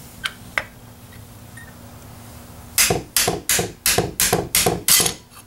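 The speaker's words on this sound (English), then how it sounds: "it drives the pins out to where you can get a hold of them. Let's drive it a little further." Hammer striking a punch to drive pins out of a Ruger 10/22 rifle trigger group: two light taps, then a steady run of seven sharp, loud metallic blows at close range, with no talking.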